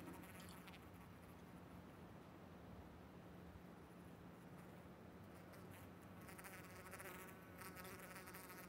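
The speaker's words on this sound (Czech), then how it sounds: "tady slyším spíš mouchy" Continuous droning buzz of flies in the video game PUBG, close by, steady and fairly quiet throughout with no pauses.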